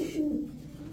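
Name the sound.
pigeons cooing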